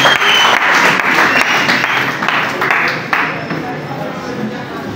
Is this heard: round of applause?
yes